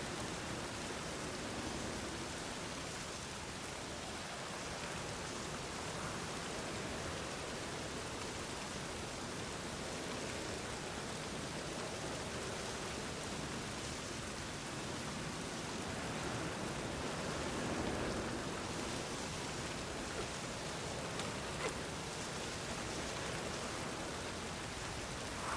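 Steady rain falls in The Witcher 3, a dense, even hiss of drops that continues without a break for over twenty seconds, with no voices over it.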